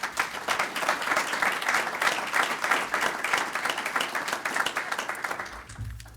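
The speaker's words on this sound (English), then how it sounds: "So I hope to join me in a round of applause and to introduce Nathalie." An audience at an evening lecture event breaks into sustained applause, many hands clapping steadily in a room before the sound fades out near the end.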